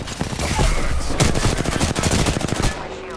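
Rapid automatic gunfire from Apex Legends, loud and close, with dense repeated shots in sustained bursts that stop abruptly near the end.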